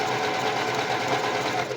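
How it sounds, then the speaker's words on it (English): A sewing machine runs continuously and up close as it stitches lace, giving an even, unbroken mechanical whir for the whole short stretch. "if I stitch the lace like that"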